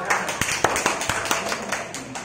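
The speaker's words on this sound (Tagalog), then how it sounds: "Sa mga teens, pumalakpak!" A church congregation claps at a prayer service, a rhythmic run of sharp, roughly evenly spaced handclaps, loud and near, with some voices under it.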